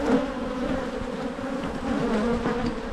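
Dense, steady droning hum of honey bees in an Australian backyard hive opened for a springtime inspection, many insects buzzing close together with no voices.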